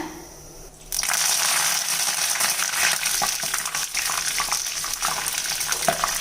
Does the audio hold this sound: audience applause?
no